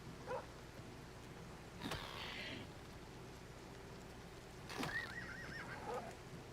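A horse in Oblivion Remastered gives two short, faint whinnies a few seconds apart, the second one a wavering neigh, heard over a quiet steady background.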